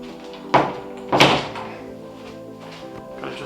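A door in a newly drywalled garage office is swung shut twice, giving two solid thunks close by, the second louder and ringing briefly, with quiet room tone between.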